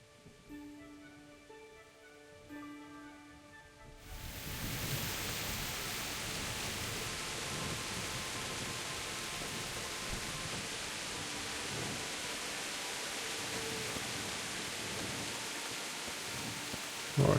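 Steady rain in the video game Kingdom Come: Deliverance starts abruptly and continues as a constant hiss, moderately loud, with no voices.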